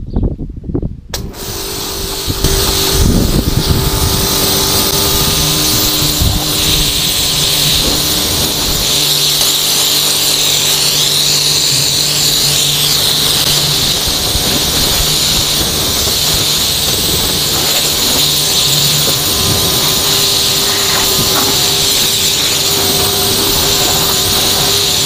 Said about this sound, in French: Je vais rincer la voiture